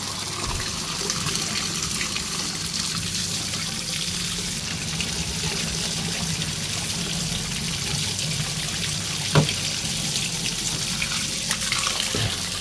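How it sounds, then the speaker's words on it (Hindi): Running spring water in a mountain village gushes steadily into a large bottle, a continuous close splashing flow with a couple of brief knocks near the end. "चलो पानी भर लेते हैं इससे।"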